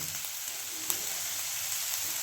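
Onions frying in a small amount of oil, a steady soft sizzle throughout with a faint stir or clink near the start, no talking.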